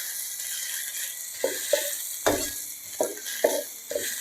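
Beef and rice fry in an oiled pan with a steady, bright sizzle. Repeated scraping stirs of a utensil against the pan break through the hiss at irregular intervals.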